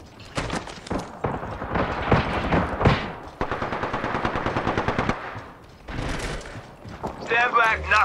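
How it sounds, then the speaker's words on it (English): Rapid automatic weapon fire from the Knuckle Cluster in Apex Legends on Nintendo Switch, loud bursts of repeated shots with game effects and brief pauses, mixed with other in-game sounds. "Stand back, knuckle cluster's firing."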